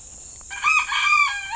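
Chickens in a sloped backyard chicken run mulched around the ground, with a loud, close crowing-type call rising over a brief cluck, heard alone in a quiet setting.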